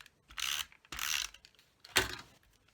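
A snail adhesive tape runner is pressed and rolled across a card, three short close ratcheting zips with quiet pauses between them, no talking.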